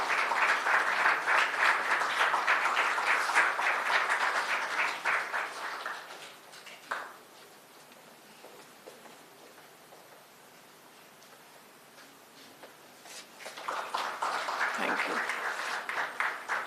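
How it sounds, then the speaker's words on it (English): An audience at a felicitation event bursts into loud, sustained applause, fades into a quiet stretch with scattered claps, then breaks into a second strong round of clapping. "Can we have a big round of applause?"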